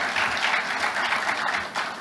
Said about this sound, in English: A round of applause to the Prime Minister of Cote d'Ivoire.